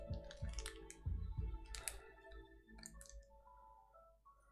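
Keys clack in quick bursts on a DC60 keyboard fitted with Gateron CAP switches. The clicks come close and fairly steady, with a faint tonal background behind them.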